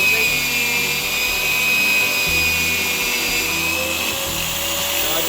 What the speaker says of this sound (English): turn on my drill